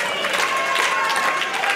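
A capacity crowd at a Limitless Wrestling show in Yarmouth, Maine, roaring and cheering steadily at a distance, a dense continuous wash of voices with no break.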